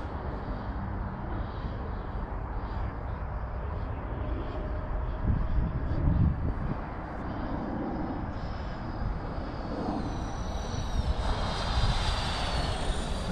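Freewing AL37 RC jet climbing in flight, a steady loud roar of its engine that holds throughout and rises into a higher-pitched whine near the end, with no talk.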